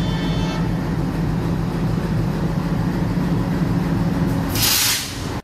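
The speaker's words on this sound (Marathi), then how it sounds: "मांडवीच्या बाजूला उभी आहे विदर्भा एक्सप्रेस आणि तिचा आवाज बघा, सॉलिड आवाज आहे" Vidarbha Express standing beside the Mandovi Express at a station gives off a loud, steady engine rumble, with a brief hissing burst near the end before it cuts off.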